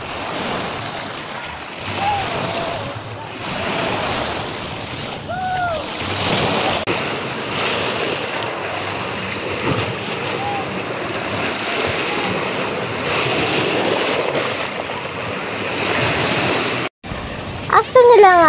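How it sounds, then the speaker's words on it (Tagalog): Sea waves wash and break steadily on a beach during a family outing, a broad continuous surf roar with wind buffeting the microphone, a brief gap and louder rumble near the end. "ganyan yung alon ng dagat"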